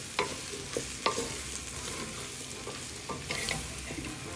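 Goulash soup sizzles gently in a pan while flour is stirred in, with a few sharp spoon scrapes and clinks against the pan and no talking.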